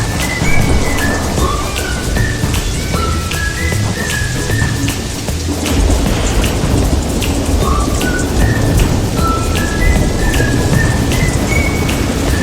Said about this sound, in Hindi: 3 महीने बाद एक दिन बारिश आई। ऐसी बारिश जैसे आसमान फट गया हो।